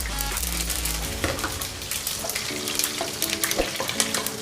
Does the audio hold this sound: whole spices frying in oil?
yes